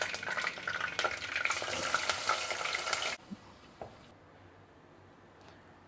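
Potato and egg masala for a potato egg kurma sizzles loudly in a pan while being stirred for about three seconds, then cuts to near quiet with a couple of faint clinks.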